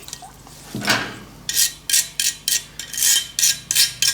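A hollow metal casting for an art deco wall sconce being washed off in water, a splash followed by a run of rhythmic sloshing bursts, about eight in quick succession, close and fairly loud.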